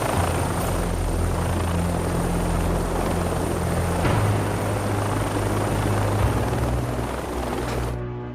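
A helicopter's rotor drones loud and steady throughout, a continuous low thrum with a dip in engine pitch about halfway through and an abrupt cut near the end, in a Czech-dubbed action film.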